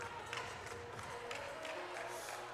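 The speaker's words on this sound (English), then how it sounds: "The crowd alive here in Crystal Palace" A Saturday afternoon women's volleyball crowd at Crystal Palace keeps up a continuous busy roar of cheering and scattered clapping, with a music track playing underneath.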